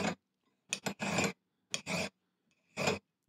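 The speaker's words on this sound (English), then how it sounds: "curved movements with the file" Short rasping strokes of a small fine 6-inch file deburring a metal edge held at a vise, five or six separate scrapes in an irregular rhythm, close and clear with quiet gaps between.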